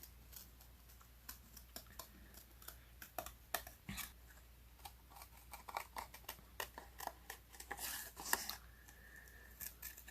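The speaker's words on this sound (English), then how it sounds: "I'm going to try and get this circle cut really smoothly" Scissors snipping around a paper circle for a Stampin' Up! greeting card, a steady run of small, close, crisp cuts with faint paper rustle and no talking.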